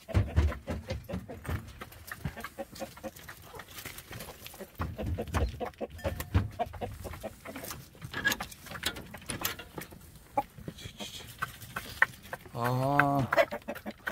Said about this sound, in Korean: 저 안쪽에 닭도 있거든요.